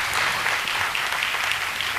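A comedy-poetry show audience applauds, steady dense clapping filling the whole stretch without a break, loud and close, with no voice over it.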